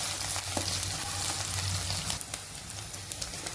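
Onions, green chilies and curry leaves sizzle steadily in hot oil for a Telugu ridge gourd curry, a close, continuous crackling hiss with a low hum beneath and small spatters popping near the end.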